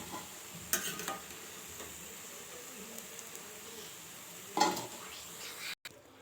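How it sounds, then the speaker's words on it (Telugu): Small chili bajji fritters fry in oil over a low flame, a soft, steady sizzle close by with a few louder bursts and a clatter from the pan. "స్టవ్ అన్నది సన్నగా పెట్టుకొని బజ్జీలు కాల్చుకుంటే లోపలిదాకా ఉడుకుతుందండి బజ్జీ."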